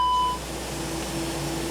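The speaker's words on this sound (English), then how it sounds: "So that's an alarm for the brakes are hot" A hot brakes alert in a Toliss A321 airliner cockpit, simulated in X-Plane 11, gives a clear electronic beep tone that sounds briefly at the start, then fades to a quiet steady cabin hum.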